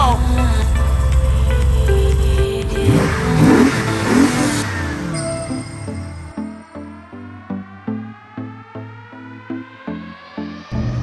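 A Jeep Gladiator Rubicon with a swapped 426 Hemi V8 on its first road test: loud, throaty engine revving and accelerating, then a series of rhythmic rising pulls as the truck gears through, with brief voices early on.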